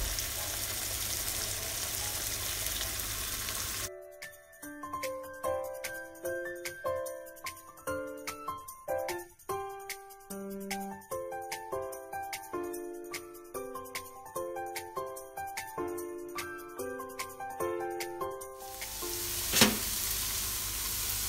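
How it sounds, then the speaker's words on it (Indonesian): Ground spice paste sizzles as it sautés in hot oil for fried rice. The frying is clear at the start and end, and a bright tune of plucked notes plays over it in between. "masukkan bumbu yang sudah dihaluskan. Ditumis sampai matang"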